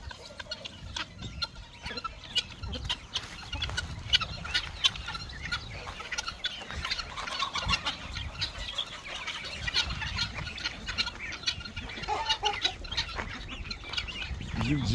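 Hens and their young chicks in a backyard coop cluck and cheep continuously at close range, with brief wing flaps mixed into the steady chatter.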